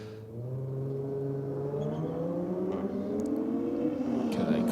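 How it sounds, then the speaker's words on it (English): BMW and Holden Commodore drag race cars launch from the line at a drag strip, a sustained, steadily rising engine roar with climbing revs that builds and stays loud throughout, no talking. "Okay, clean launch. That BMW is out of the hole."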